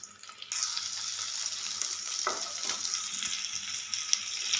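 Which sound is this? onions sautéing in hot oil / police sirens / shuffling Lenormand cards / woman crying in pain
onions sautéing in hot oil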